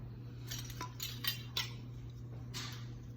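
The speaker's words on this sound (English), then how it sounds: "And we're gonna put our lids on." Metal canning lids set onto jars for pressure canning ground sausage, a few light metallic clinks and taps spaced irregularly over a low steady hum, fairly close, no talk.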